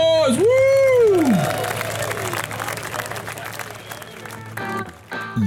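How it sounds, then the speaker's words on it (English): Round of applause with whoops from a crowd at a live barbecue competition event, clapping swelling briefly and fading, partly under a voice and background noise. "Give a round of applause."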